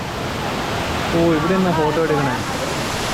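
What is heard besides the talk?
Tukad Cepung waterfall in Bali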